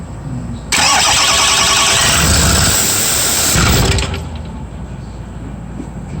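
A 6.4 Powerstroke diesel pickup truck engine with an EGR delete cranks and roars to life nearby, running loud for about three seconds before shutting off, leaving a low rumble behind.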